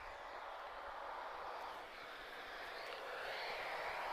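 An Airbus A330 departs Lisbon Airport, giving a broad, steady jet roar that holds loud and near throughout with a slight swell toward the end.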